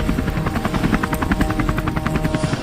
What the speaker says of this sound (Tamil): இப்பதான் ஹெலிகாப்டர் என்னை இறக்கி விட்டுட்டு போகுது